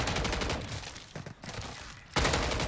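Sustained rapid gunfire from a Modern Warfare 3 Zombies match, a dense loud fusillade that briefly drops away mid-stretch before bursting back in at full volume, with no talking over it.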